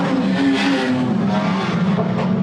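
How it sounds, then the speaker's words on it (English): Wingless sprint cars racing on a freshly prepared Shark Bay Speedway dirt track, a loud, continuous roar of several engines close by, holding steady with slight rising and falling pitch as the cars slide through a turn. "car number 84 in Darren Humphrey as they slip and slide, duck and dive out of turn number 2"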